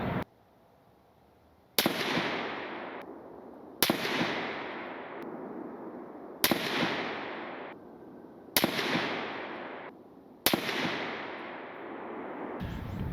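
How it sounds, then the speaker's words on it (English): Five loud, sharp rifle shots from an unsuppressed gun ring out at regular intervals of about two seconds, each with a decaying echo tail, close by and with no talking. "So here's another 5-round group, same distance, same gun, only with the KGM R30 removed."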